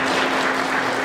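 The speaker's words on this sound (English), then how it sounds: "give them a round of applause" Steady audience applause at a community meeting honouring volunteers, dense and continuous clapping filling the whole brief moment at even loudness.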